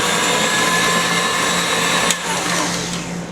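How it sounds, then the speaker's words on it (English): An electric stand mixer whirs steadily on high while beating American buttercream frosting with caramel mixed in, a loud, close motor drone with one brief knock partway through and no talking. "I'm going to continue to stir on high until it's fully incorporated."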